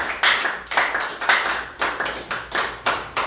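At a Sunday service at Emmanuel church, the congregation claps in a steady rhythm, about three claps a second, each one a crisp, close slap in an even, repeating pulse with no voices over it.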